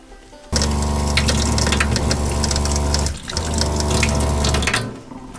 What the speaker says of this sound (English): it is so nice to have running water in a road rig